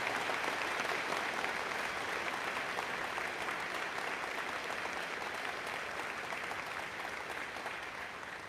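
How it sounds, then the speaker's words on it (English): An audience at a school prize day ceremony claps for the prize winners, dense sustained applause that holds steady throughout and fades slightly near the end. "if we could have a round of applause for our prize winners"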